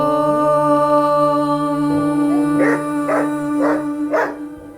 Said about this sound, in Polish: Póki co dajemy radę, a Gutek poznaje mantrę OM